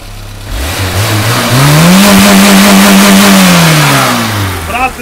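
A Ford Ranger pickup engine revs up hard and holds against its rev limiter, a loud close droning roar that climbs, plateaus with a stuttering cut, then falls away.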